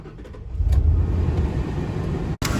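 A car engine runs steadily at close range, loud and continuous with a low rumble, ending in a brief cutout and a sharp click. No speech.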